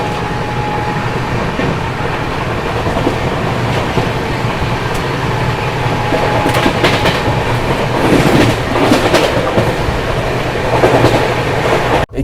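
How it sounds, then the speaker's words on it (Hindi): Kashi Mahakal Express on its Varanasi to Indore run rolls steadily along the rails, a continuous rumble with rhythmic clickety-clack of wheels over joints, loud and close from inside the train, with no talking. "उन्नाव जंक्शन पर भी अपनी ट्रेन ने ओवरटेक मार दिया, लखनऊ झांसी पैसेंजर ट्रेन को"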